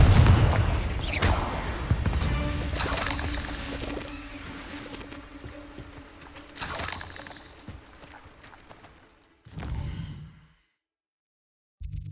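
A Confringo fire spell in Hogwarts Legacy bursts with loud booming, crackling blasts over a steady game rumble, tailing off into a brief final thud and near silence.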